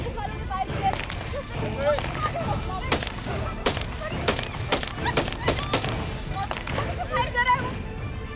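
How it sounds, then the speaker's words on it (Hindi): Police officers firing gunshots outside a police station during an armed confrontation, a dense and loud run of sharp reports and bangs over a constant rumble of crowd noise and commotion. "पुलिस वालों ने फायर किया है।"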